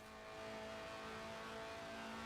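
A Lotus Sport 190 with a 1.8-litre, 190-horsepower engine that revs to 8,000 rpm, weighing under 700 kilos, drones in a sustained high revving note in Forza Horizon 4, growing slightly louder and heard alone.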